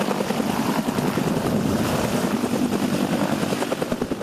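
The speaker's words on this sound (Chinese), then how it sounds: "陆航执行战斗直升机的热加油以及挂弹作业" A military combat helicopter during the Han Kuang exercise, with rapid rotor chop and turbine whine, loud, steady and close throughout.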